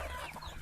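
A hen clucking in a farmyard, one short, close, throaty burst with no talking.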